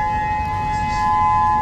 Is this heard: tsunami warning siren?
yes